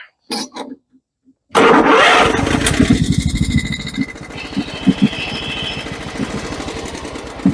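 John Deere STX38 lawn tractor with a 12.5 HP Kohler engine, worn and barely running, cranks with a few short bursts, catches into a loud rough chugging run, then sags and sputters unevenly as it begins dying.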